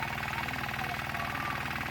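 A tractor engine runs steadily at idle with an even, rapid knocking chug, heard faintly and unbroken, with no voices over it.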